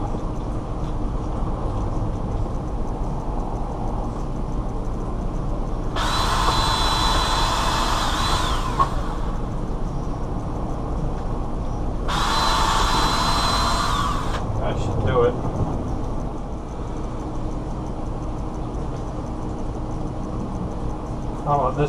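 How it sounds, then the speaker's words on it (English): Power drill boring holes while mounting a boat's NMEA 2000 backbone: two loud, close whirring bursts of a few seconds each, separated by a pause, over a steady background hum. "So I can drill the other two bottom holes."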